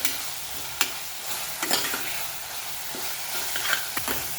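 Ginger garlic paste sautéing in masala in a pan while pav bhaji is being made, a soft steady sizzle broken by occasional scraping stirs of a spoon, close and moderately quiet.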